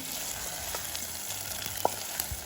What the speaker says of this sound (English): So fry them slowly.